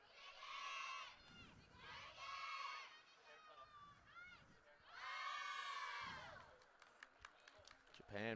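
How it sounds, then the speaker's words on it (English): Japan's U20 women's rugby team breaks its huddle before facing New Zealand, giving bursts of high, excited cheering and shouting that swell, pause and rise again. The crowd noise sounds faint and distant. "Japan break their huddle with a cheer"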